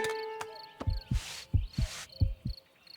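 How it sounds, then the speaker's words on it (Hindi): A fast cartoon heartbeat thumps in quick paired low beats, repeating about three times, with whooshy swells between beats and faint tonal sound effects, no speech. "दिल की धड़कन तेज है"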